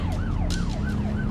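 Ambulance siren wailing in a steady rising-and-falling sweep, loud and close, with a constant vehicle rumble beneath it; no voices.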